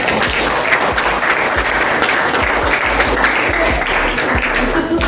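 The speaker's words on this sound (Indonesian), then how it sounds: "tepuk tangan semuanya" A classroom of students applauds together, a steady, dense burst of clapping that holds loud and even from start to finish with no talk over it.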